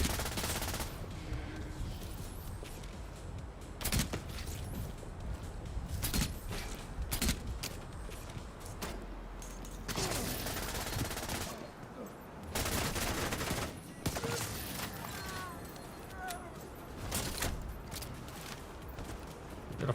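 Rapid bursts of automatic gunfire from a shooter video game during a dust storm event, with repeated loud volleys and short pauses between them over a constant gritty background.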